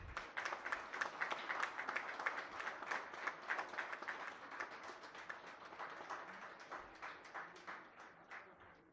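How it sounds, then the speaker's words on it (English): Audience at a Cognizant campus office opening in Kokapet claps steadily, a dense patter of many hands that builds quickly and slowly thins out over several seconds. "Let us give them a big round of applause."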